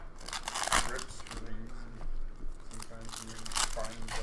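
Foil packs of 2017-18 Series 2 hockey cards being torn open and crinkled during a case break, giving a close, loud crackling and ripping with several bursts, while people talk over it.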